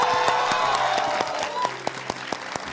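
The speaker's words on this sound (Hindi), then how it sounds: "ऐसे ताली बजा रहा है और पूरी ताकत के साथ ताली बजा रहा है" Audience applause in a studio debate, with one boy clapping hard and fast; sharp claps ring out clearly above the dense, steady crowd clapping, growing more sparse and isolated toward the end.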